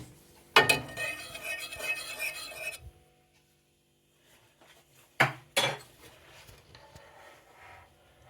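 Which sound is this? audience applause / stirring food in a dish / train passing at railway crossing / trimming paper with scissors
stirring food in a dish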